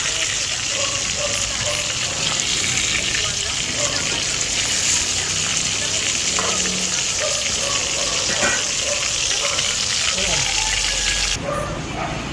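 Fish sizzles steadily in a hot pan of oil, a continuous loud hiss and crackle that runs throughout, while a person talks over it.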